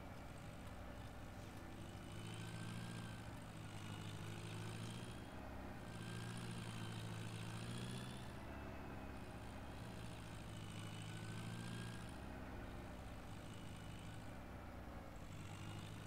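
A tractor engine in Farming Simulator 2017 drives steadily through mud, giving a continuous, fairly loud droning rumble with a constant low hum that keeps going for the whole stretch, with no voices.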